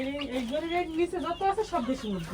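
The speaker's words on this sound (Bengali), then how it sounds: "এটা তো দেশি মুরগি" Desi hens in a coop cluck and warble continuously at close range, a run of rising and falling calls that fills the whole moment.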